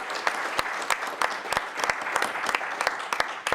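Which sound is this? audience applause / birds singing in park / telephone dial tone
audience applause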